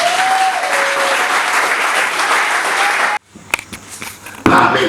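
A church convention congregation applauding and cheering for Jesus, a dense sustained wash of clapping that fills the room for about three seconds before cutting off, followed by scattered knocks and a brief burst of noise.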